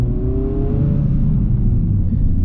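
Honda Civic Type R driving, a loud steady engine drone with a rising whine, heard from inside the car with no talk.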